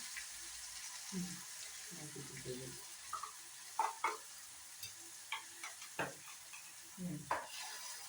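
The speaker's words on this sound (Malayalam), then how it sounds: "വെളിച്ചെണ്ണ ഒഴിച്ച് ഇപ്പം നമ്മുടെ അമ്മ ചമ്മന്തി റെഡിയാക്കിക്കൊണ്ടിരിക്കുവാണേ" Coconut oil is poured and stirred in a pan while onion chutney is made, giving a soft sizzle with scattered scraping and stirring clicks close by, quiet throughout.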